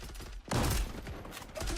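Gunfire in the online shooter Zula: a sharp loud burst of rapid shots, then a shorter trailing burst, over game background noise without talk.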